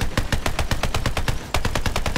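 Rapid automatic gunfire in the video game Borderlands 3, a steady fast stream of sharp close shots with a brief break midway before it resumes.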